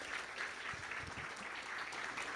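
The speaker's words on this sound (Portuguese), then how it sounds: "Vamos recebê-lo carinhosamente com aplauso." An audience claps to welcome a guest on stage, a fairly faint but continuous patter of applause with a few low murmurs underneath.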